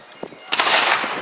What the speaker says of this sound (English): I believe we're about to fire on one of the cannons.